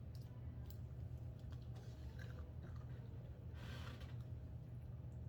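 A dog chewing and crunching a treat up close, a soft steady wet mastication running the whole time over a low constant background hum.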